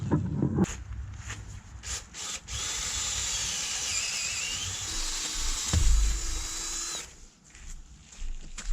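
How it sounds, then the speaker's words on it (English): A power drill whines steadily for several seconds as it bores a hole for mounting a horse paddock gate, its pitch dipping slightly under load, with brief clicks before and after. "Let's drill our second hole."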